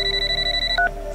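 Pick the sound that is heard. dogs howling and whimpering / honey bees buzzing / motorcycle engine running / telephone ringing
telephone ringing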